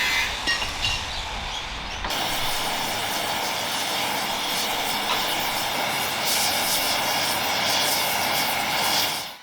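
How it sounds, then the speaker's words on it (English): A jumbo torch flame roars steadily during repair work on a Panzer II F hatch and barrel, a loud broad rushing hiss that kicks in abruptly after a quieter start and holds close and constant. "so we ended up using the jumbo torch"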